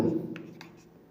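Pen on paper while working a math solution by hand, a short run of soft scratchy strokes up close, faint and quiet with no talking.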